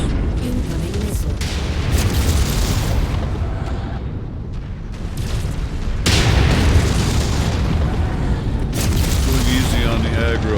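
Missile explosions rumble through a mech combat video game, heavy booming blasts and sustained roaring bursts, loud and close, with abrupt swells of noise and a voice talking in between.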